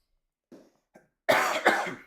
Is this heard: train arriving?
no